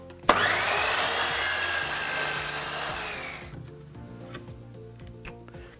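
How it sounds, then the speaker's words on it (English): A power saw cuts through pallet timber for a chair frame, a loud, close whine lasting about three seconds before it cuts out, followed by faint knocks and handling noise. "the next stage is we want to cut a piece of timber from here to here"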